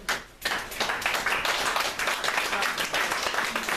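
Sustained applause from a crowd, dense steady clapping that starts after a brief quieter moment and carries on loud and unbroken, with some voices faintly mixed in.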